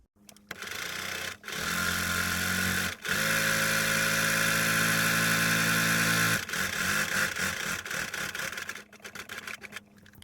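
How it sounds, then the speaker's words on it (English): A sewing machine stitches fabric for a wrap headband, running in two sustained close whirring runs separated by a short stop, then slowing into brief stuttering bursts. "I'm just gonna continue stitching this all the way through"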